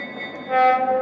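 A rumbling train-like hum is joined midway by a bright, sustained horn blast from a Lionel Burlington Zephyr model train's electronic sound system.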